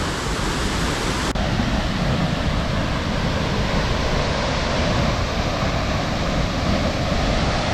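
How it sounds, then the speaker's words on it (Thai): The Chat Trakan waterfall roars steadily and loudly, a dense rushing wash of falling water with no pauses. "น้ำตก"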